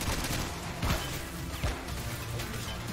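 Dense rifle gunfire from infantry in the Men of War battle game, a continuous noisy fusillade of overlapping shots with a few heavier cracks standing out, loud and close throughout.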